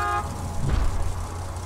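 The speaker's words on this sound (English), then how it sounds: "Drive up and honk your horn." A car horn in the Borderlands 2 video game gives a short blast right at the start, then gives way to a steady, close vehicle engine rumble with no talking.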